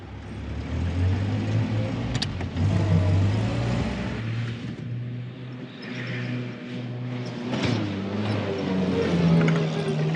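A Land Rover Series III truck's engine drones steadily while driving, with low rumbling harmonics, a loud constant roar and occasional shifts in pitch as it moves along.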